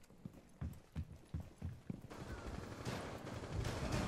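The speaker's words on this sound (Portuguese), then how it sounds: "Dois tiros de caçadeira a queima-roupa" Two point-blank shotgun blasts from a video game firefight land as sharp, punchy bursts among several quick impacts, followed by dense, loud noise that keeps rising toward the end.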